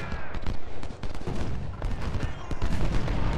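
Rolling musket volleys from Civil War infantry in the strategy game Ultimate General: Civil War, a steady crackle of many scattered shots with low booms underneath, continuous and moderately loud.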